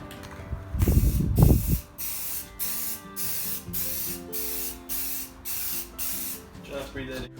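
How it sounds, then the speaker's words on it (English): Rust converter sprayed from an aerosol can onto a school bus floor during a subfloor install: a burst of voices and noise, then a series of about seven evenly spaced, close hissing spray pulses, each lasting roughly half a second. "we're going to spray a little bit of converter on it so that way the rust doesn't continue spreading"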